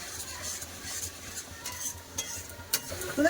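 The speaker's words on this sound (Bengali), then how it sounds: "এপাশে মশলা কষা হচ্ছে" Ground turmeric, chilli, cumin and coriander powders stirred and sizzling in a pan, a steady scraping stir over soft frying hiss with a couple of sharp utensil clinks near the end, close and alone.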